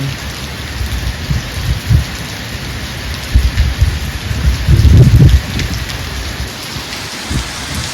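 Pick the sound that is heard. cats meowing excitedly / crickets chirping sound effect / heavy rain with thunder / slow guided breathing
heavy rain with thunder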